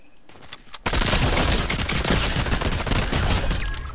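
Rapid automatic gunfire from the video game Fortnite bursts in after a couple of quieter shots, a loud continuous fusillade of close shots lasting several seconds.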